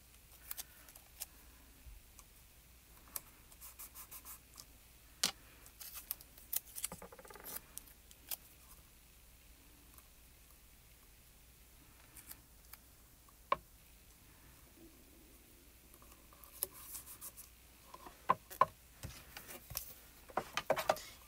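Scissors snipping paper around partly die-cut card pieces for handmade cards, giving scattered quiet clicks and short cutting bursts in an otherwise hushed room with no talking.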